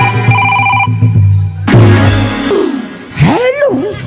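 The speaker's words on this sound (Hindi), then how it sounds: "अब मोर मोबाइल में कैसे मिस कॉल आवत रे" A mobile phone ringtone plays a repeating electronic tune near the microphone for a couple of seconds, then gives way to loud, excited voices talking over each other on a comedy stage.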